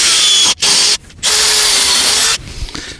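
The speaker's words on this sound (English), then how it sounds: "Make sure we're on a low gear on the drill, so we've got plenty of torque." A drill in low gear bores a 20mm hole with a DeWalt spade bit through clamped wood, a loud, steady whirring grind broken by two short pauses, then easing off into a lighter rattle at the end.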